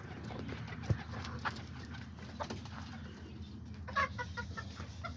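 Backyard chickens and roosters among pigeons, with scattered clucks and a few short bursts of crowing near the end over a steady outdoor murmur and light knocking.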